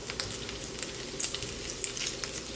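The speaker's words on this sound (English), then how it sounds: "just render as much fat as you can. It will take some time, and you will end up with lovely crispy bits of bacon or pancetta" Bacon or pancetta fries in a pan as its fat renders out, giving a steady close sizzle with scattered sharp pops and spits and no voices.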